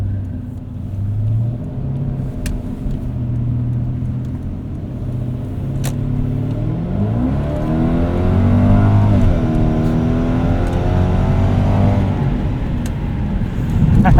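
A 1998 Lexus GS 400 engine revs while driving, a steady close rumble that climbs in pitch as it accelerates and then holds, loud and alone.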